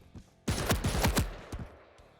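A quick burst of about half a dozen weapon shots hits a wall in Quake Champions, loud sharp blasts close together and fading out after a final shot.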